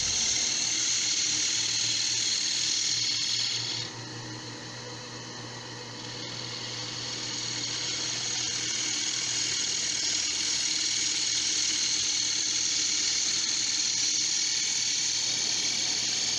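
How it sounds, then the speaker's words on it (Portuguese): Wood cut on a lathe while turning a candlestick: a steady loud whirring hum with a high hissing scrape of the tool on the spinning workpiece, which dips briefly, then returns and holds throughout. "Começando a fazer os cortes mais perto da beirada para ir tirando material e se aproximando do centro"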